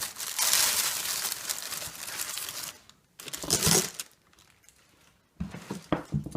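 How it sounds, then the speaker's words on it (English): A small plastic bag crinkles and rustles while a Kensington BlackBelt Second Degree case for the Surface Pro 4 is unpacked, with close bursts of handling noise separated by short quiet pauses. "case comes in a little plastic bag"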